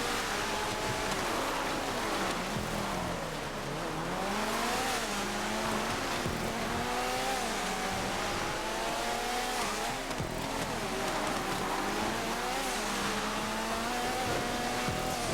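Race cars on a rallycross track in the video game GTA 5, engines revving and shifting with rising and falling pitch, tires squealing and skidding in corners, loud and continuous for the whole stretch with no talk.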